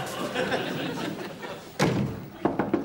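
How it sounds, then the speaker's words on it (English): A door is knocked on in a British sitcom scene: one heavy thud, then a few quick raps close by near the end, after a stretch of background talk. "I'd rather knock if you don't mind"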